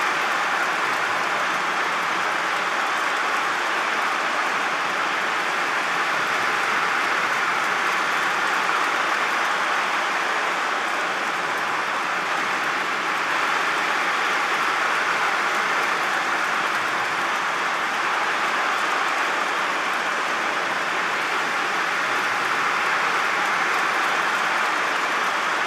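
Yankee fans in the stands at a New York Yankees versus San Francisco Giants baseball game applaud pitcher Marcus Stroman as he leaves, a steady, dense wash of clapping and crowd noise lasting throughout.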